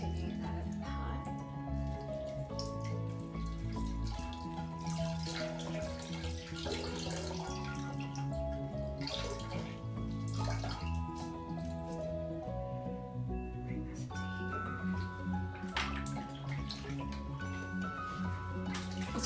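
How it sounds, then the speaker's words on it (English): Tap water running into a sink while dyed yarn from an oak natural dye bath is rinsed, a continuous splashing flow with gurgles and drips throughout and no voices over it. "I'm just doing a quick little rinse just to see what color we have"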